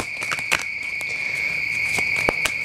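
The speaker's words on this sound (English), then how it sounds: "Those cicadas just got really loud." Loud, steady insect buzzing of cicadas, a sustained shrill drone with a few sharp clicks and taps scattered through it.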